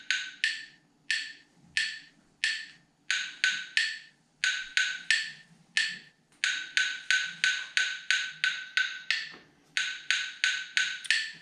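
Metronome Beats app sounding a four-measure eighth-note and quarter-note rhythm at 90 BPM: a steady run of sharp, bright clicks with short and longer gaps, close and loud with no talking.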